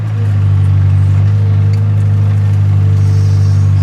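An excavator's diesel engine strains under load while lifting a full bucket, a loud, close, steady low rumble that rises slightly and holds.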